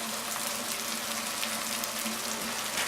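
Onions fry in a pan with blended tomatoes and spices just added, making a dense, even hiss with a faint low bubbling underneath, close and continuous with no voices.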